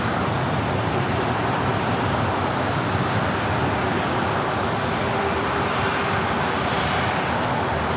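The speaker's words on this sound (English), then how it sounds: "Virgin Atlantic Flight 141 coming in from London Heathrow on the 787-9" A Virgin Atlantic Boeing 787-9 Dreamliner, arriving from London Heathrow, lands at LAX with a steady, broad engine roar held at an even level throughout and no voices.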